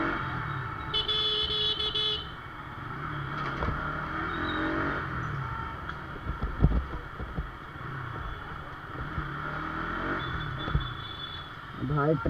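Heavy road traffic rumbles close by, with a car horn honking early on and engines droning continuously, while voices are heard now and then over the noise.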